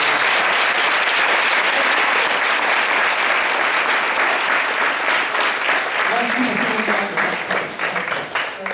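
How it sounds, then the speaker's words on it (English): An audience at a community discussion breaks into sustained applause, a thick wash of many hands clapping throughout, with voices murmuring beneath it toward the end. "a round of applause"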